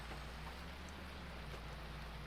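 Steady rain hisses evenly from the video game Farming Simulator 19, a constant wash of drops with a low rumble under it and no voices.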